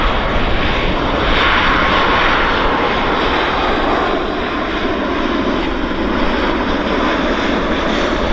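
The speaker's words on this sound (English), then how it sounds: "we've got a lander on this side. So this guy's due in from Edmonton. This is Air Canada 235" An Air Canada airliner inbound from Edmonton lands at Vancouver airport, its engines a loud, steady roar that fills the whole stretch without a break, with no voices over it.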